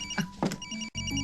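A telephone in a home rings with a steady electronic trill, then breaks off briefly and starts again, loud and close, with faint low background sound.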